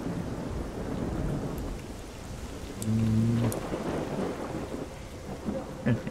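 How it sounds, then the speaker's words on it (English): Rain falls steadily with a rolling rumble of thunder midway in the S.T.A.L.K.E.R. Call of Pripyat video game, a few sharp drip-like ticks on top, and no talking. "It's raining outside."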